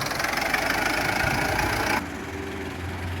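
A 2012 Mitsubishi Pajero Sport 2.5 GT automatic idles close by with a steady, dense engine rumble that drops slightly in level partway through and keeps running.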